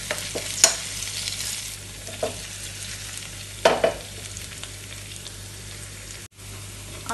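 Curry leaves dropped into hot oil for a green apple pickle, giving a steady sizzling fry with a few sharp crackles and stirring knocks near the pan, then a brief dropout near the end.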